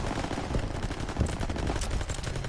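Machine guns fire in a video game as a rapid, continuous rattle of overlapping bursts mixed with heavier thuds, loud and steady throughout.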